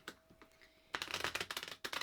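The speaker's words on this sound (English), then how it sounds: "We'll give it one more good shuffle." A deck of tarot cards is shuffled repeatedly, with quiet riffling at first and then a dense burst of rapid flicking and clattering close by, briefly pausing before resuming.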